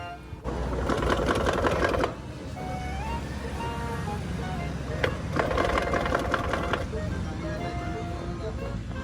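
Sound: rattling motorcycle engine idling

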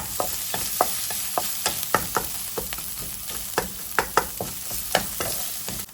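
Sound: stir-frying red curry paste with chicken in a pan

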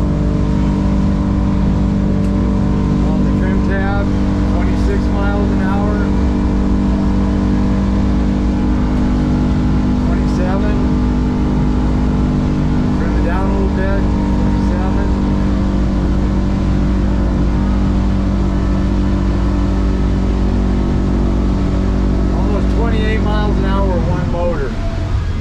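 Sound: North River 29 Offshore boat outboard motor running at speed

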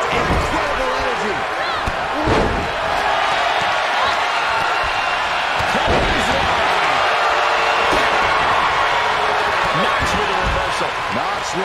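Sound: crowd cheering in the arena in the WWE 2K22 video game

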